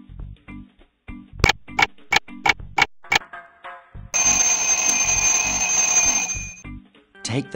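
A kitchen-style timer ticks in a rapid series of sharp clicks, then a loud continuous electronic alarm rings for about two seconds before stopping, with no voices.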